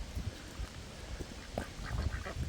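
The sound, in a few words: ducks quacking by a pond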